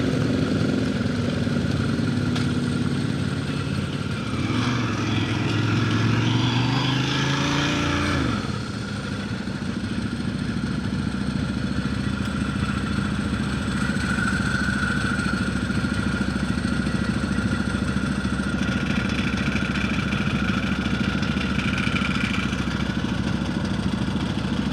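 A Ducati motorcycle engine runs steadily during a ride on a city street, a loud continuous drone with rising revs in the first seconds, then a steadier lower hum with wind noise.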